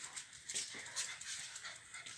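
Large dogs outdoors giving faint, high whimpers and yips in quick, uneven bursts, distant and low in level over a steady hiss of background noise.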